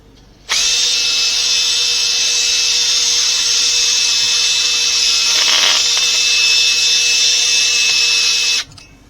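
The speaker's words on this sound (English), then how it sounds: "So I'm going to take that wire brush and clean out all that rust right there." Loud, steady power-tool whine of a rotary wire brush scouring rust from the control arm area of a 2013 Subaru Outback, running continuously for about eight seconds before cutting off, with no talking.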